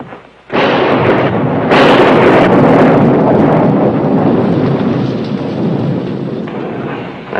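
A violent thunderstorm with heavy rain, a loud sustained roar and rumble of thunder and downpour with gusty wind that swells abruptly and persists throughout.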